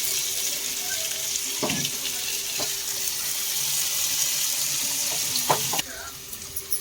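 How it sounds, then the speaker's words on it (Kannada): Onions fry in a pan for prawn biryani, a continuous close sizzle with a few sharp stirring clinks of a utensil against the pan. "ಈಗ ಈರುಳ್ಳಿ ಫ್ರೈ ಆಗಲಿ"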